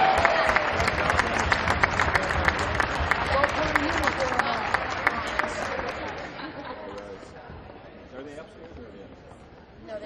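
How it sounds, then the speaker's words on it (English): A crowd applauds steadily at a women's basketball game, dense clapping mixed with cheering and chatter, gradually fading toward the end. "please one more round of applause for our women's basketball alumni"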